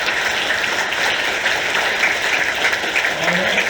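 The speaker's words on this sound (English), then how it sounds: "let's give a big round of applause for our panelists" A conference audience applauds the panelists at the close of a tech business panel, a dense, continuous wash of clapping from a sizable crowd that holds steady throughout.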